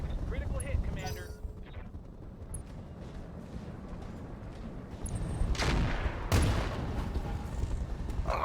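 Mech weapons firing in the BattleTech RogueTech game, a run of booming blasts and bursts that builds to two loud, sharp impacts late on, over a constant rumbling battle bed.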